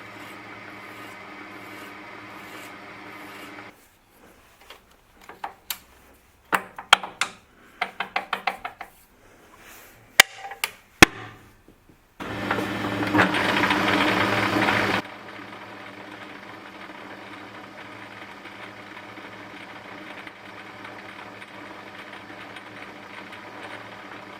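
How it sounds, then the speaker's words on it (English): Brass stock being filed to a taper while spinning in a lathe: a quiet running hum, then a busy stretch of scraping and knocking strokes, a louder burst of broadband rasping for a few seconds, and the lathe hum again alone. "So I'm going to put a piece of brass in the lathe and file it to a taper"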